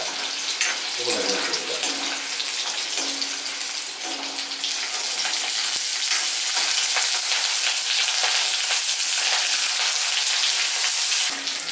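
Curry leaves crackle and spit in hot coconut oil, a loud, dense, steady hiss across the whole stretch with a brief sharp pop near the start, while no one speaks.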